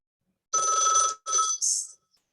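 A telephone rings indoors during a library archive research workshop, giving two bursts of electronic ringing and then a short chirp, fairly close and with no talk over it.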